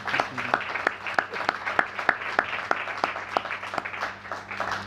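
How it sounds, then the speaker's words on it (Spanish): An audience applauds a young 18-year-old man at a history talk, with sharp distinct claps sounding in a loose rhythm over a steady hum in the room, the clapping even and moderately loud throughout. "¿Pueden darle un aplauso al muchacho,"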